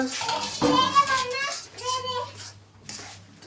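Roasted semolina being stirred into khoya in a pan while making mava suji pinni: soft clinks and scrapes of a spoon against the metal pan, close, under a person talking, with a voice nearby.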